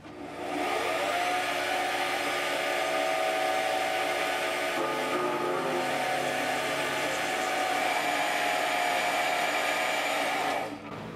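A metal lathe taking a facing cut on a workpiece, a loud steady motor whine with rough broadband cutting noise, holding constant for about ten seconds before winding down.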